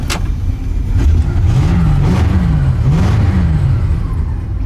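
A 20HP NASCAR-style go kart engine drones steadily while driving, loud and close, its pitch rising and falling a little with the throttle.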